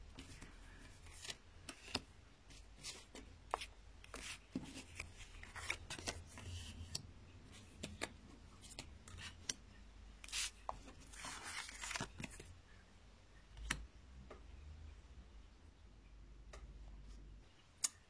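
A deck of tarot cards shuffled and drawn at close range, giving quiet, rapid papery clicks and riffles in scattered bursts over a near-silent room.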